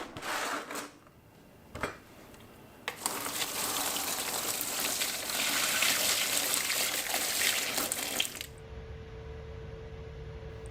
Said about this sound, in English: I just pour hot water on the outside of the joint to wash off the flux